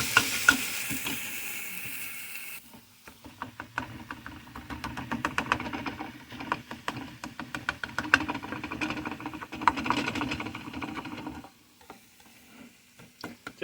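Scrambled eggs sizzle in a frying pan while a utensil stirs and scrapes them in a steady, irregular rhythm of clicks and scrapes over the soft frying hiss. No one speaks.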